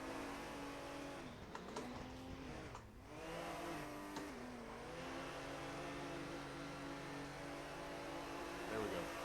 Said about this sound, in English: might as well do a burnout while we're sitting here